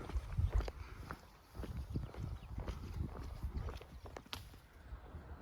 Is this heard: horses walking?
yes